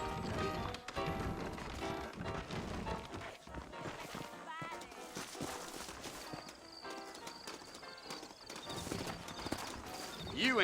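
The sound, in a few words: horses clip-clopping in the video game Red Dead Redemption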